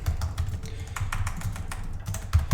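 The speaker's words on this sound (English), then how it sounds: "just type it in." Brisk typing on a computer keyboard, a steady run of soft close clicks lasting a couple of seconds, with no speech over it.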